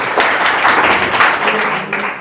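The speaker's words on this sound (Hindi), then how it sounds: "जोरदार तालियां हो जाए इनके लिए" An audience bursts into loud, enthusiastic applause, many hands clapping together in a dense, sustained roar that fades slightly at the end.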